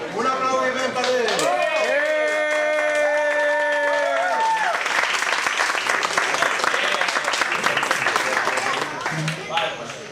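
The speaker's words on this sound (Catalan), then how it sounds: "Un aplaudiment per ell." Applause at a school recital at Escola Gatzara, June 2015, a loud, dense clatter of clapping that takes over after a sustained musical passage and keeps going through the clip, close and lively.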